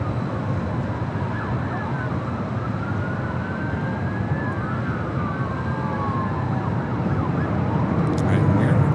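Police sirens wail during a pursuit near LAX airport, rising and falling tones that sweep back and forth over a constant loud roar of traffic and airport noise, with no talk.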